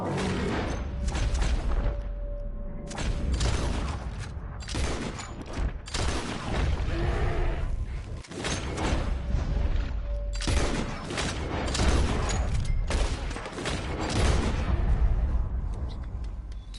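Gunfire rips through a Red Dead Redemption 2 firefight on PS5, with loud repeated volleys of shots in dense, overlapping bursts, some echoing booms and brief lulls throughout.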